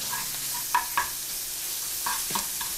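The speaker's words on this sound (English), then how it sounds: "while the bacon is cooking down" Bacon frying in a pan gives a steady soft sizzle at moderate level, broken by a few short clinks or scrapes from a utensil, with no voices.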